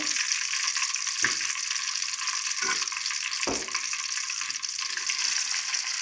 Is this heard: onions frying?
yes